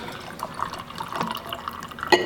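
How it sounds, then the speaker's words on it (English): Bourbon is poured into a glass packed with ice, giving a soft liquid trickle and a few light clinks, with a sharp glassy tap near the end, close by and quiet. "I'm gonna pour some bourbon"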